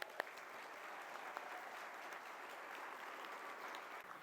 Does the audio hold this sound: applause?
yes